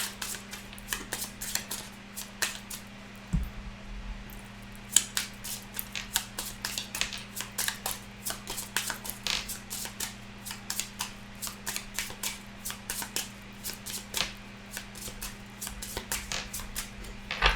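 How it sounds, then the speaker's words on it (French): Cards from a 32-card deck are drawn and cut by hand, giving a long run of soft, irregular flicks and snaps up close over a faint steady hum, with no talking. "Donc, je vais tirer quelques cartes."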